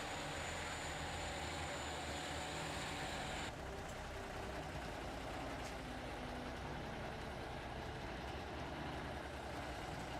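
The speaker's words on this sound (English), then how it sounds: "showcased its power with an impressive burnout" A heavy truck with a Cummins 335 small cam engine, 15-speed gearbox and SP40 rear axle does a burnout, its engine roaring loud and steady for the whole stretch.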